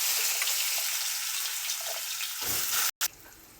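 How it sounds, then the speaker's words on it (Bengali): Panch phoron fries in oil in a pan with a steady close sizzle, then chopped pumpkin and bitter gourd go in, bringing a burst of louder sizzling and a brief cut in the sound. "পাঁচ ফোড়নটা ভাজা হয়ে গেছে, কুমড়ো আর এই উচ্ছে কেটে রেখেছি এগুলো দিয়ে দেবো।"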